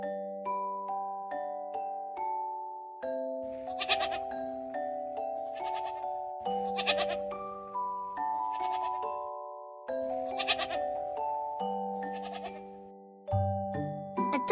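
A goat bleats several times in short, wavering cries spaced a second or two apart, set over a gentle melodic backing tune that plays throughout.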